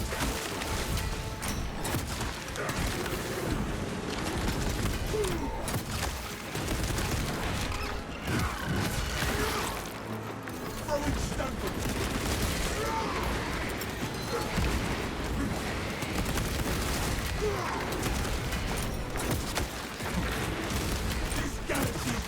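Heavy bolter fire in the Space Marine video game, a dense, continuous roar of shots mixed with battle noise against Tyranid hordes, loud and sustained throughout.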